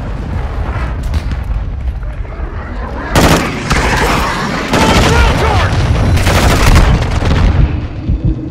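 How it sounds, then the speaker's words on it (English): Heavy explosions and booming gunfire from an enemy cruise missile strike in Call of Duty: Modern Warfare II, loud and sustained with a sharp blast partway through and rumbling detonations following. "Hostiles launch the cruise missile."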